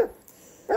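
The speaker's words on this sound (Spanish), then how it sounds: "Ladrido enérgico." A video game dog lets out two short, energetic barks, one at the start and one at the end, with a faint hollow pause between them, close and fairly loud.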